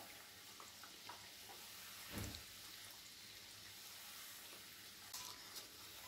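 Wheat flour namak pare fry in hot oil, a steady, faint sizzle and fine crackle running throughout with a brief louder stir or splash partway.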